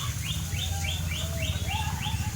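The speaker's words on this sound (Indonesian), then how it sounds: "Nih burung-burungnya, ada meraknya juga nih di sini." Free-flying birds in a mini zoo aviary chirp in a steady series of repeated bright calls, with a continuous low hum of background noise underneath.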